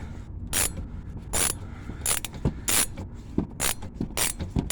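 Socket wrench ratcheting on a front shock bolt of a 1999 Ford Explorer, a run of sharp, close clicking bursts in a steady, repeated rhythm over a low mechanical background.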